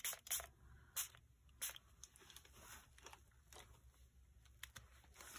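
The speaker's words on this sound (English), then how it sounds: "spray it just a little bit with water" Several quick, hissing spritzes from a water spray bottle onto an art journal page, clustered early then scattered, fairly quiet and close.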